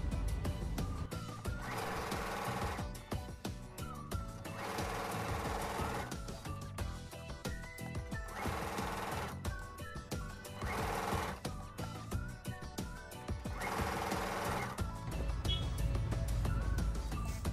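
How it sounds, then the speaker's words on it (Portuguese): A sewing machine hems the edge of a fabric dish towel in repeated short runs of fast mechanical whirring, each lasting a second or two and broken by brief pauses, close and steady throughout without talking. "E já podemos costurar."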